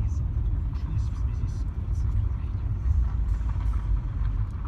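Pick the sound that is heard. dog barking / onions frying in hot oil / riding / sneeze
riding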